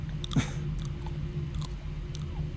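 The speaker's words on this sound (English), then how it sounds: "And there are chewing noises" Chewing sounds from eating a pizza in a Halloween video game, a steady run of soft crunchy bites and mastication over a low background hum with no voices.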